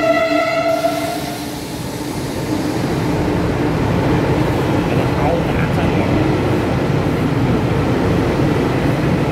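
The Puyuma tilting express, TEMU2035+TEMU2036 on service 406 from Shulin via the Hualien-Taitung line to Taitung, departs with a brief horn blast followed by a loud, sustained rumble and rolling wheel noise close by.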